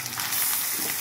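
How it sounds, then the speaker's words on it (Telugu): Chicken pieces hit hot oil in a pan and fry with a loud, steady sizzle and hiss that fills the short moment without a break. "ఇప్పుడైతే చికెన్ వేసేస్తున్నాను"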